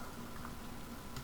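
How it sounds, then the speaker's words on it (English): Rapid keystrokes on a computer keyboard, a brief steady run of close, quiet clicking with no voices over it. "let me type it in the chat"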